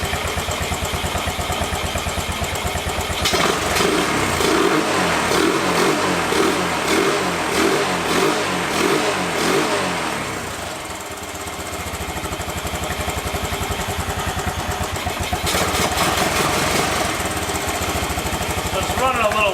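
An old Honda three-wheeler idles roughly, its small engine chugging loud and close with an uneven, pulsing beat that dips briefly before picking back up.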